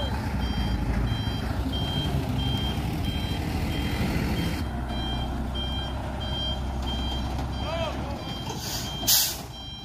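An orange Fuso truck reverses while towing a palm-oil truck stuck in mud, its reversing alarm beeping in a steady repeating rhythm over a loud diesel rumble, with a voice talking along and a brief air-brake hiss.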